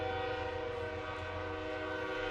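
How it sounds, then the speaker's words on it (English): A train rolls past a baseball field at Corbett Field in Minot, a continuous steady rumble and drone with a sustained tonal horn-like layer, heard at moderate distance without talk. "A train rolling through the outfield."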